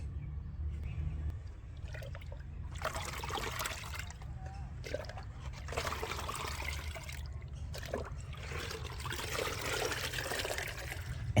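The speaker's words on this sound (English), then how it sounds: "strain the liquid" Fermented fruit-peel fertilizer liquid trickles and splashes through a strainer in several separate pours, with low hum and brief pauses between them.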